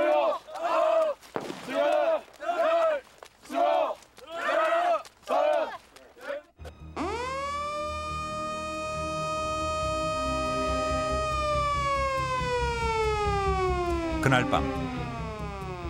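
A military emergency drill siren wails at night, rising and holding a loud, steady tone for several seconds before falling away, following a short stretch of speech.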